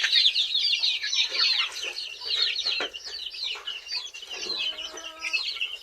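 Several caged chickens cluck and cackle close by in a busy, overlapping chorus of short calls that runs throughout, with no talking.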